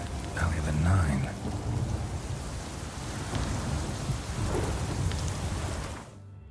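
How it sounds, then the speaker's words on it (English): Rain pours steadily with rolling thunder during a thunderstorm in The Witcher 3, a dense, continuous wash of noise with a heavier rumble early on, ending abruptly near the close. "Storm, damn it."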